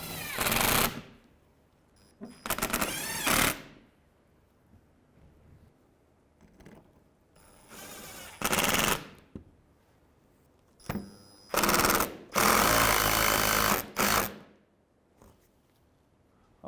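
A 10 mm bolt is run in on the front bumper cover of a 2015-2019 Hyundai Sonata, heard as several loud, harsh bursts of a power tool separated by quiet pauses.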